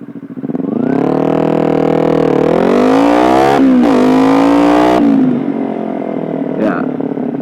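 A Kawasaki Ninja 300 engine revs up under load, then drops sharply as the rider brakes hard with ABS, leaving a lower idle with some clatter afterward.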